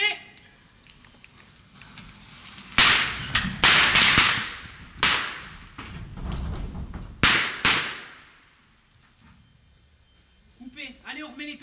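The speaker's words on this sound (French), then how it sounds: "Allez, on remet les pétards tout de suite là." A rapid series of sharp firecracker bangs on a film set, several loud cracks bunched together with echoing tails, followed by quieter voices afterward.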